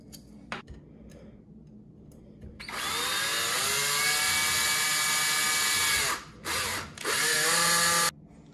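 A power drill drives screws into a 3D printed part, with a few light handling taps followed by a long, loud, close whir that stops briefly twice and then resumes.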